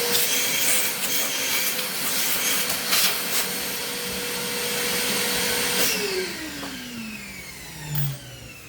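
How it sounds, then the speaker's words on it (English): A vacuum cleaner removing dust from a guitar fretboard runs steadily with a loud whooshing hiss, its motor pitch dropping and winding down near the end. "I like to vacuum it."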